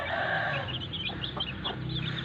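Chickens cluck softly in a village yard where hens roam among Shamo Cross Jawa fowl, a scattered run of close clucks over a low outdoor background hum.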